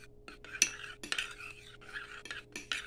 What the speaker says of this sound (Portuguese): Vou dar uma mexidinha.